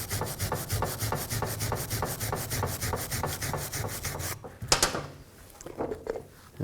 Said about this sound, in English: Just use a wire brush, clean up some of this rust.